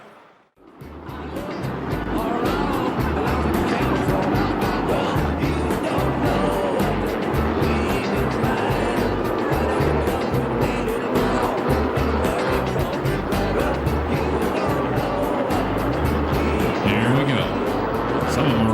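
Western Midget race cars roar around a track in Perris, California in a 30-lap main event, a loud, continuous engine drone that swells in after a brief quiet start, with an announcer talking over it.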